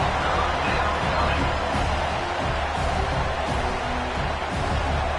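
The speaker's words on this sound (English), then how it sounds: "Listen to the crowd energy here in the early going." A college football stadium crowd at an Arkansas SEC Championship game roars as a dense, continuous wash of noise, loud and steady, with no distinct voices emerging.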